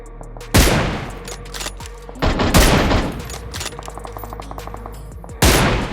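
Loud bursts of gunfire from the game BGMI (PUBG Mobile) erupt several times, with rapid automatic volleys and lingering rattles between them.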